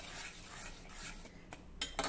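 Whisked curd being stirred into rice in a pot, a soft scraping swirl with a couple of sharp utensil clinks near the end, close and fairly quiet.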